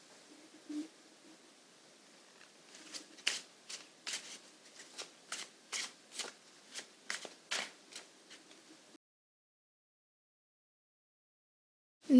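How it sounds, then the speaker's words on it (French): Tarot cards shuffled close by in a series of soft, evenly spaced slaps and riffles, about a dozen strokes, quiet and alone, ending in silence. "on va tirer les cartes de tarot"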